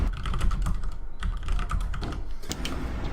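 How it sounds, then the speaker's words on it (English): Rapid, uneven clicking of a computer keyboard during a Dota 2 match, with close, dense keystrokes and brief pauses. "Sorry for my typing."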